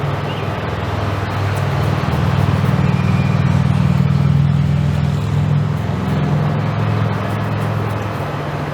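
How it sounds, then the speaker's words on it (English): Traffic on a state route in front of a house, with a steady roadway rumble that swells as a vehicle goes by and then eases off. "We get trucks up and down in front of the house all the time."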